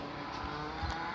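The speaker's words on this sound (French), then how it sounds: "c'est une moto qui arrive" A motorcycle approaches on a street, a brief faint rumble rising slightly under steady background noise.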